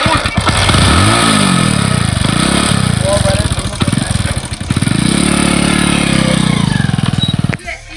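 A motorcycle engine rumbles and revs close by, pitch rising and falling through several throttle bursts, with voices mixed in underneath.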